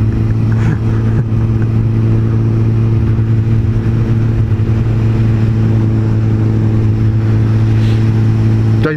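A small moped engine drones steadily while riding along a road with a camper van nearby, a loud, constant close-up hum with a strong low tone and wind buffeting, no speech.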